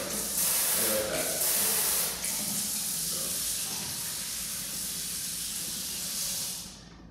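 Water sprays in a loud, steady hiss from a pull-out kitchen faucet sprayer in an apartment sink, running for several seconds and then cutting off.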